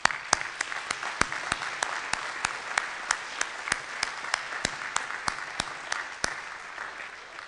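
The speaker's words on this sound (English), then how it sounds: "let's give them a round of applause" Audience applause at a university faculty awards ceremony: a sustained, steady wash of many hands clapping with sharp individual claps standing out, continuing throughout and tapering slightly at the end.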